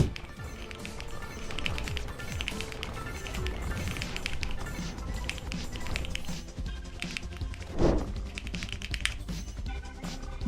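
Rapid, steady typing on a mechanical keyboard fitted with jelly switches, close and clear, running continuously with dense keystroke clatter and no voices.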